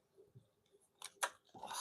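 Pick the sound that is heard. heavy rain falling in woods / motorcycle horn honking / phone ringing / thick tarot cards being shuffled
thick tarot cards being shuffled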